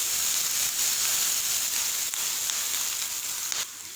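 Finely ground green chilies sizzle and fry in mutton kaleji masala, a steady loud hiss of frying in the pan throughout with no talk.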